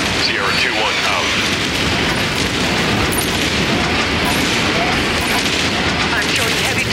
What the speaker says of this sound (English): Commencing bomb run now.